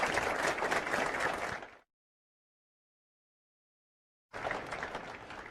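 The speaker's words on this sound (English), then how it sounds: "Let's give them all a round of applause." At a candidates forum, an audience applauds the event sponsors in a dense burst of clapping. It cuts to total silence for a couple of seconds, then the clapping resumes just as strongly.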